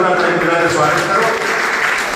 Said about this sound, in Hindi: जोरदार ताली बजा स्वागत करो।